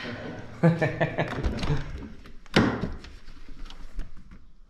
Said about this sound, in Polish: A weź otwórz drzwi i zajrzyj